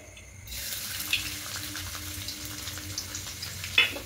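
Chopped garlic and ginger hit hot oil in a pan for chilli soya chunks, setting off a steady hissing sizzle close by, with a couple of light clinks.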